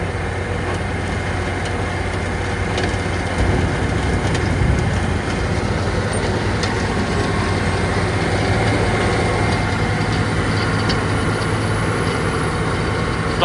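Heavy engine idling on a dyno at a constant note, a steady low rumble with a faint thump partway through, heard close and alone.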